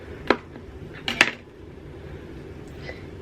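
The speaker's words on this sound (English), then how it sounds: "So first, let's cut the avocado." A sharp knife cuts into an avocado, giving two crisp clicks of the blade, a single one and then a quick cluster, against a quiet room background.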